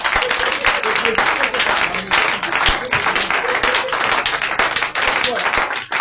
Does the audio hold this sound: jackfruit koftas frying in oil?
no